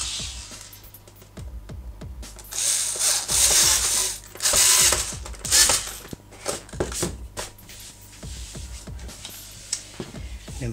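Screws being driven to fix a cooling grille onto a PS3 Slim console, a rough ratcheting, grinding mechanical sound in uneven bursts of a few seconds each, close and fairly loud with short pauses between.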